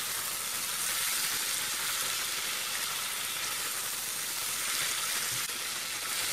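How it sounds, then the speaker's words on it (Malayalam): Onions sautéing in a pan for a Kerala-style nadan chicken curry, an even, continuous sizzle and hiss held at steady loudness throughout, close by and with no voices. "സവാള നന്നായിട്ട് വഴറ്റി വന്നാലേ കറിയിൽ നല്ല ടേസ്റ്റ് ഉണ്ടാവുള്ളൂ"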